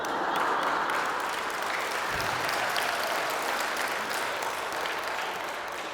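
Retreat audience in a hall breaking into hearty applause for a priest's talk, dense sustained clapping from many people that fades slightly toward the end.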